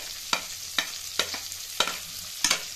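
Chopped onion pieces frying in a pan for chili chicken, a steady soft sizzle broken by four sharp scraping stirs spaced about half a second apart, close and fairly quiet.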